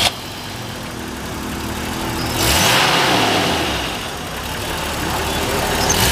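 A 1985 Bitter SC with a manual gearbox and a 3.9 liter straight-six engine revs up, swelling in a single loud rise and easing back to a steady idle, with no talk over it.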